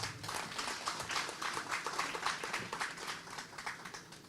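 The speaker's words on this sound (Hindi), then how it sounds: "और इसी के साथ एक बार जोरदार तालियां" A crowd applauds at a ceremony for the renovated Terminal 1 of Jaipur International Airport, where the Rajasthan Chief Minister spoke: steady, dense clapping that stays fairly quiet and even for about four seconds.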